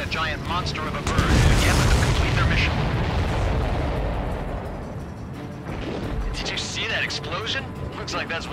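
A loud explosion in Ace Combat 7 bursts out with a deep rumbling boom, then heavy crackling noise and rumble that fade, with fainter bursts later on.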